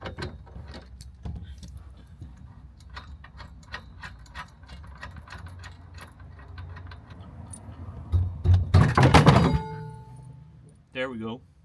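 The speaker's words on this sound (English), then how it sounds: "I wanted to like retighten all the bolts anyways" Tools work on the bolts of a Nissan 180SX being retightened for Japanese inspection, with repeated light metallic clicks and ratcheting through a quiet room, then a louder burst of clattering thunks near the end, close to the microphone.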